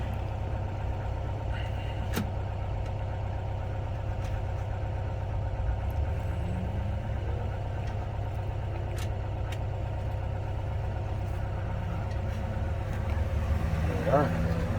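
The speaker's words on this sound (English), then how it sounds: "this is the first air-cooled bus I ever drove" An air-cooled bus engine idles with a low, steady rumble throughout, faint at moderate distance, with a few light clicks and a slight rise in noise near the end.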